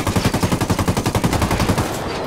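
Rapid automatic gunfire in Ghost Recon Wildlands, a steady machine-gun burst of about twenty evenly spaced shots aimed at a helicopter, loud and close, ending abruptly.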